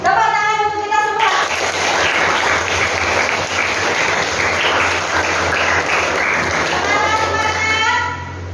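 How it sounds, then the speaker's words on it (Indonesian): Dense, sustained applause from a school group fills the room for several seconds, bracketed by brief speech at the start and end. "Tepuk tangan untuk kita semua."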